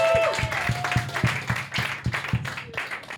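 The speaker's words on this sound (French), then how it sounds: "On peut applaudir bien fort." Audience applause breaks out on a French dating reality show, a dense, steady patter of many hands clapping close by with a few louder individual claps standing out, running the full length without speech.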